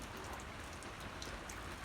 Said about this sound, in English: it is raining a little bit right now